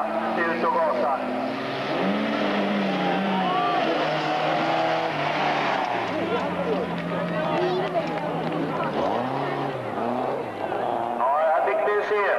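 Folkrace cars on a dirt racing track, engines revving and rising in pitch through repeated accelerations at middle distance, blended with music and some talk.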